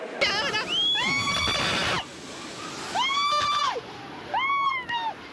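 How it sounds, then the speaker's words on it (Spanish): A woman screams desperately during a flash flood of a creek and the Medellín River in Caldas, Antioquia, with repeated loud, rising and falling cries over a rushing water roar, separated by brief pauses. "Eran los gritos desesperados de una mujer que registraba la emergencia"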